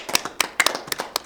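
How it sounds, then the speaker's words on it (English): A few people clap unevenly at a parent session, sparse separate hand claps in loose irregular rhythm, close and crisp with gaps between them. "Let's give yourself a round of applause"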